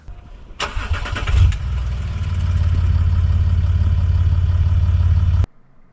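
Land Rover Discovery 4 (D4 SVX) fitted with a near straight-piped Griffin catback exhaust: a sharp burst as the engine catches, then a loud, steady, deep throbbing idle close by that cuts off abruptly near the end.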